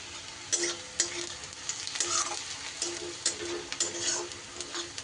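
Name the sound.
onions and garlic frying until brown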